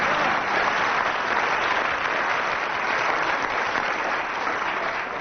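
A studio audience at a comedy panel show applauds steadily, a dense and even wash of clapping that holds at full strength throughout.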